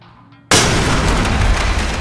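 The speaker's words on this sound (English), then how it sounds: "C2, flashbang it and clear it." A flashbang grenade bursts in the Ready or Not police SWAT raid on a gas station, one sudden loud close bang followed by a sustained roaring, ringing wash of noise.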